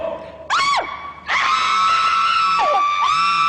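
Girls in a TV show screaming contest let out long, loud, high-pitched shrieks, one starting alone and then several voices joining in a sustained, piercing chorus with brief breaks.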